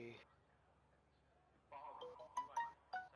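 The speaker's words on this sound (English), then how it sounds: "I heard my phone go off." A mobile phone ringtone chirps in a few short melodic bursts near the end, faint and brief after a quiet stretch, with some low background sound.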